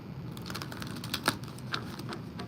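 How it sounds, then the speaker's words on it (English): A single deck of cards is shuffled outdoors in nature, giving close, soft papery rustling punctuated by a few crisp snapping clicks, with no talking. "One more shuffle."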